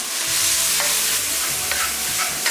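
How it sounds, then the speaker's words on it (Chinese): Minced pork and corn being stir-fried in a wok, with a loud continuous sizzle and the rhythmic scrape and toss of a spatula against the metal, close up. "翻炒均匀就可以出锅了"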